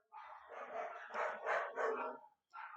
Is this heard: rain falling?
no